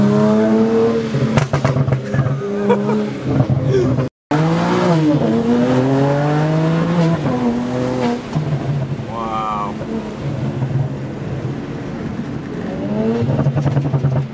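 A 460 whp BMW 335i with an N54 engine running E85 and an Alpina flash, its exhaust rumbling and burbling through gear changes under loud, excited talk from people inside the car.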